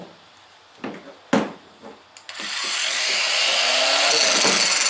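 A power saw cuts through material for a kayak motor mount: a few sharp knocks and clatters first, then the saw starts and runs in a loud, continuous whine to the end.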